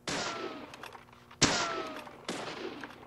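Three loud gunshots from the video game Deadly Premonition, spaced roughly a second or more apart, each a sharp crack followed by a short decaying tail.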